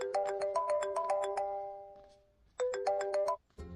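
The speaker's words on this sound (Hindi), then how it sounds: "आपको किसी का फोन आ रहा है।" An electronic phone ringtone plays a bright repeating melody of chiming notes, pauses briefly, then starts again before cutting off; clear and moderately loud.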